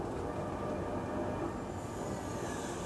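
A steady rumbling train passes continuously with a broad, even roar and faint rail hiss, fairly quiet and distant, with no voices heard.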